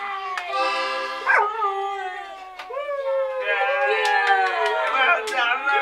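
Several Labrador puppies, about four weeks old, howl together in long wavering, overlapping cries with yips, close and loud for the whole stretch, while people talk softly beneath.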